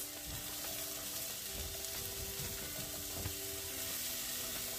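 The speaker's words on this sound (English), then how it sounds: "Right in that oil that's left in there, we'll put our onions and carrots." Onions and carrots sautéing in leftover oil in a Caraway non-stick pan, a steady close sizzle with occasional stirring scrapes, continuous and without talk.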